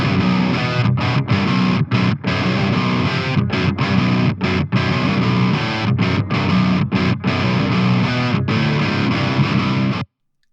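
A heavily distorted nu metal guitar plays through a Diezel VH4 high-gain amp emulation plugin with boosted lows and rolled-off highs, chugging loud palm-muted riffs broken by short rhythmic stops before cutting off abruptly at the end.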